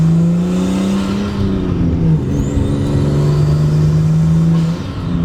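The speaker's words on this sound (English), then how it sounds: "you have the turbo spooling, and when you get on it, this thing gets loud, and the turbo blow-off valve is just insane" A 1989 Nissan Skyline R32 GTS-T turbo engine drones loudly up close under load, its pitch shifting between gears, with a high whistling rise and airy rush like turbo spool and blow-off.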